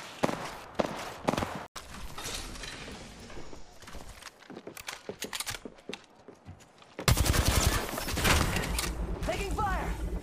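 Rapid automatic gunfire and explosions fill a video game battle, dense and loud bursts that surge louder in the second half, mixed with game effects and a voice talking over the action.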